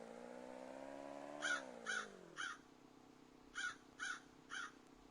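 Crows caw on a farm in six short, loud bursts in two groups of three, each harsh call clearly separated, over a low steady hum that fades partway through.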